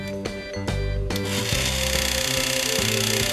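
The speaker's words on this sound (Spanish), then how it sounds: "y como se da cuenta el motor se enciende." A small electric motor in a homemade disco ball switches on. A couple of clicks are followed by a steady, close, buzzing whir that carries on to the end.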